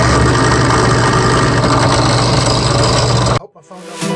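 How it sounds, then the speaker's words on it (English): A drill press bores holes in a workshop, a loud steady motor whine with grinding rasp running for over three seconds before cutting off abruptly, followed by a brief quieter mechanical tail. "drill press time"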